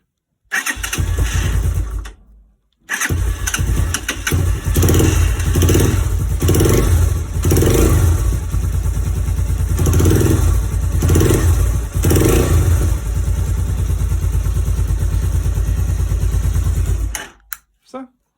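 A motorcycle engine coughs briefly, cuts out, then fires and runs loudly up close, idling with a few rhythmic revs before shutting off at the end.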